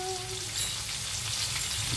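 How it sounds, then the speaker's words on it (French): Mushrooms and onions frying together in a pan, giving a dense, even hiss of sizzling that holds steady throughout at a moderate level, close by. "Et là on va bien laisser cuire les champignons avec..."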